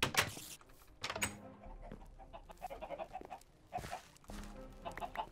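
Chickens on a Minecraft chicken farm cluck in short, repeated bursts, close and fairly quiet, with pauses between the calls and no speech over them.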